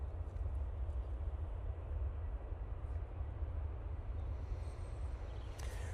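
A Ryanair Boeing 737-800 begins its takeoff roll at Manchester Airport, a steady, heavy low roar of jet engines rumbling at a distance throughout without pause, with no talk.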